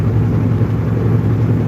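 Kenworth W900 (KW 900) truck with an 18-speed manual transmission, its engine giving a steady, loud low rumble close by, constant throughout with no talking.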